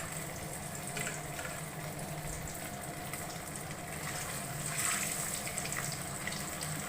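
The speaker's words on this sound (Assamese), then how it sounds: "এপিচ এপিচ এতিয়া মই তেলত দি যাম মাছখিনি" Pieces of fish frying in hot oil on a gas stove at low-medium heat, a steady close hiss and sizzle running throughout, swelling a little louder near the end.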